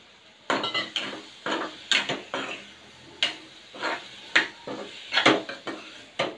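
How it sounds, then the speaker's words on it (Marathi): Chopped potatoes are tipped into a cooking pan and stirred for a potato and pea curry, giving a series of close metallic clinks and scrapes of a spoon against the pan at an irregular rhythm. "आता यामध्ये मी बटाटा जो चिरलेला आहे तो घालते."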